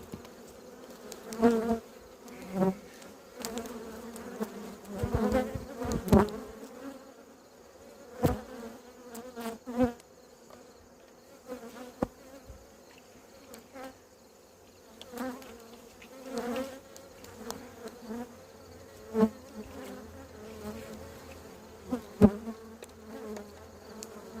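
A dense, steady hum of honeybees buzzing close by at a hive, with louder individual bees passing near now and then, no voices.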